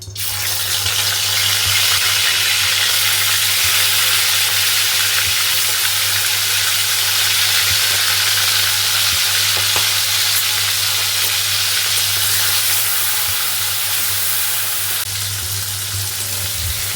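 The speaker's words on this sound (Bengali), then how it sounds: "তেল গরম হয়ে গেছে, এবার দিয়ে দেবো চিংড়ি মাছ।" Loud, continuous sizzling of shrimp frying in hot oil, steady and close for the whole stretch, with occasional faint clinks and no talking.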